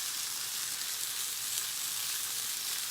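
Lemon chicken sizzles and crackles while frying in a pan, a steady, close hiss of hot oil with no talking.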